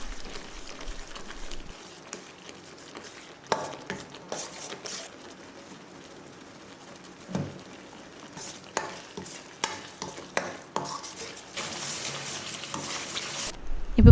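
Thick tamarind paste for temple-style puliyodharai is stirred in a pan, giving soft scraping and tapping strokes at an irregular pace over a low, gentle sizzle.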